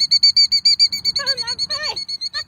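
A nesting bird near its eggs in a garden gives loud, rapid, repeated high calls, close by, then breaks into harsher descending squawks before resuming the quick pulsing call.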